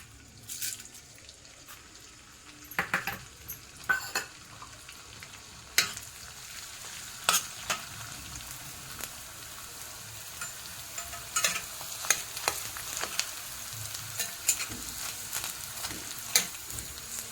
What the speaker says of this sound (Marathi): थोडा थोडा करून आपल्याला हा डिंक तुपामध्ये तळून घ्यायचा आहे